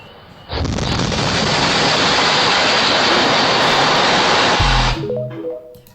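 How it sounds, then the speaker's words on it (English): A house explodes out of nowhere in played-back footage, a sudden loud roaring blast that holds as a dense sustained rumble for several seconds, then cuts off into a brief low thud and fading tones. "Just out of nowhere, house exploding."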